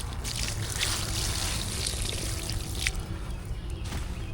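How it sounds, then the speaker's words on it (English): Water poured over a freshly caught carp of about 18 pounds on a tidal river, a steady near trickle and splash running throughout with no speech. "Gonna go ahead and get some water on him."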